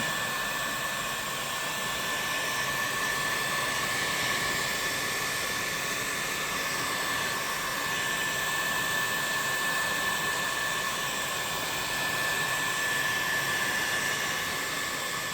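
A heat gun blows steadily on an epoxy resin tabletop, a continuous breathy whoosh with a faint high whine that stays close and even throughout, with no talking.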